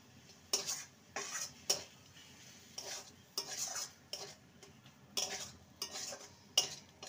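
Chopped coriander being stirred into a poha and carrot filling in a pan, with a series of distinct scraping and clinking strokes of a spoon against the pan at a steady, unhurried rhythm, close and fairly quiet.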